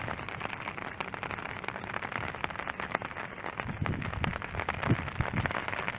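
Steady rain falls outdoors beside a grand Charleston house with a second-floor view, a dense hiss of drops with scattered louder splatters close by, continuous throughout with no talking.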